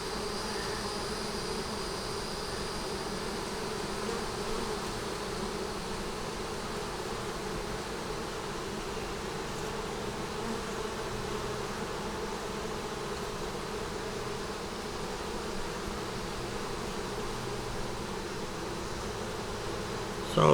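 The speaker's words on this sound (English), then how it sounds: "Saw a little bee. It must have just come out the pollen patch." Honey bees buzz continuously around a hive in a dense, steady drone, close and unbroken, with no voices.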